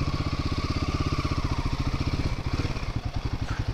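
A motorcycle engine idles close by with a fast, even thumping putter that stays steady throughout, with a slight change in tone near the end and no talk.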